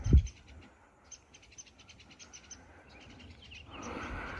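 Faint red-winged blackbird calls chirp repeatedly in the distance over a quiet marsh background, with a thump at the start and rising rustle near the end.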